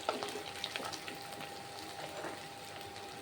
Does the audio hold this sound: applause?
no